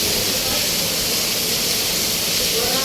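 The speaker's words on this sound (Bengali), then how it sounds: "প্রচণ্ড বৃষ্টি, প্রচণ্ড বৃষ্টি" Heavy monsoon rain in Mumbai near a metro station, a dense, loud, unbroken roar of hiss and spray filling the whole stretch.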